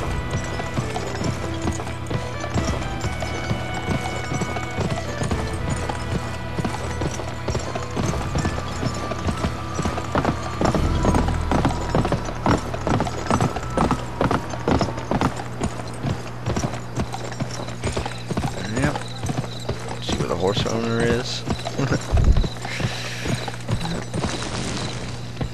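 Horse hooves clip-clop at a steady trotting rhythm across a ride in the western shooter game GUN, running under a constant game music and ambient bed with occasional mechanical clanks, no talking.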